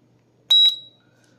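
A fire-fighting robot's alarm sounds a single short, piercing electronic beep when it detects fire, loud and shrill, then cuts to near silence.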